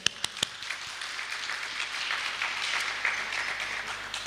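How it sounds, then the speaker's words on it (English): An audience at a job fair and career summit applauds, with a few sharp claps at the start that settle into a soft, steady patter of clapping, fairly faint and with no talking. "Round of applause."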